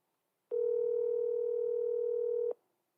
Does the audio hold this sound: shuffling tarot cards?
no